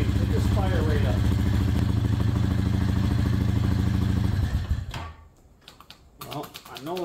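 A 2008 Honda Fourtrax fuel-injected ATV engine runs with a loud, steady rapid putter, then cuts out and gives way to a few clicks and clanks before sputtering briefly again.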